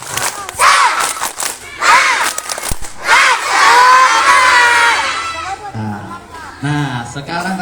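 A group of schoolchildren at an elementary school fire-safety lesson shout a rhythmic chant in loud bursts, with a voice leading between them.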